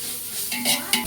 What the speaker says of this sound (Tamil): நல்லா ஆயில் பிரிஞ்சு வர வரையும் வதக்கணும்.